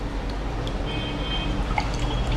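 Oil paint dripping into a container of water, a close series of small liquid drips and plinks over a constant watery background, with a few brighter drops standing out near the end.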